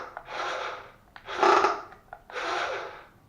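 An RC Robot Wars Shunt robot's hammer mechanism runs in three rasping, whirring bursts, each about a second long, close and moderately loud.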